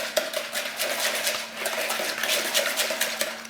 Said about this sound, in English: And then we just mix that all together quickly.